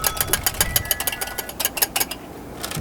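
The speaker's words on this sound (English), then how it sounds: "we're going to whisk that up. Make it a little frothy" An egg white is whisked by hand in a bowl until frothy for Italian biscotti. Quick, light clicking strokes repeat in a fast, uneven rhythm, close and moderately loud.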